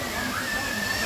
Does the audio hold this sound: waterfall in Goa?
yes